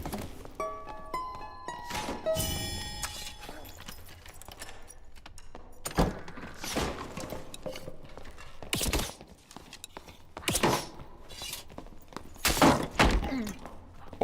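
Shield bash impacts in the fantasy combat video game Dark and Darker: a series of heavy thunks and thuds with metallic clanks and jangles, scattered irregularly at close range.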